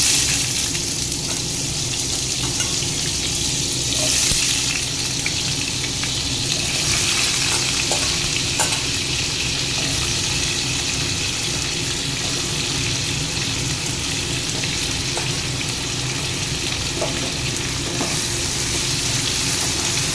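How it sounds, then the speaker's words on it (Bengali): Potato and pointed gourd fry steadily in a wok, a dense continuous sizzle with occasional stirring scrapes, loud and close, with no talking. "আলু পটলটাকে একটু লাল করে ভেজে নিতে হবে"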